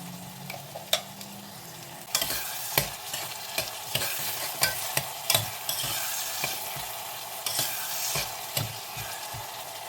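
Onions frying in hot oil with salt, stirred with a spoon in an Indian mutton curry preparation: a steady sizzle that jumps louder after the first couple of seconds, punctuated by repeated scraping stir strokes and occasional utensil taps, no voices.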